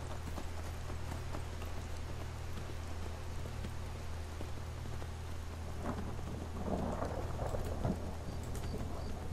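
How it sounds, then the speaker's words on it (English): Steady rain with rolling thunder in the Skyrim video game, a constant wash of downpour and low rumble throughout, joined near the end by brief clip-clopping of a horse's hooves. "What a lovely day it is. Raining."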